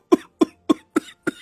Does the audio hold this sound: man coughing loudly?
yes